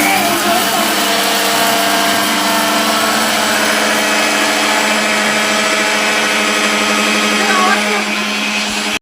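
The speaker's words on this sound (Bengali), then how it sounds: "mixer grinder" A kitchen mixer grinder grinding paste without water, a loud, steady high-pitched motor whine with a churning rattle, running continuously close by.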